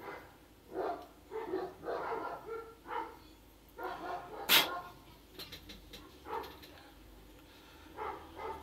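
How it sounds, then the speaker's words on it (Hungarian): A dog barks in a run of short, repeated, moderately loud barks with brief pauses between them, heard alone indoors. "kutyák azok ilyenek. Mindig azt mondják, hogy wow."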